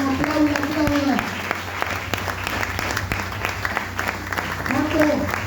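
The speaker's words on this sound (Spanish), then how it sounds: "Dar un fuerte aplauso en esta hora. Vamos, aplauda, aplauda." Church congregation clapping steadily throughout, a dense sustained burst of applause with a preacher's voice speaking over it at the start and end.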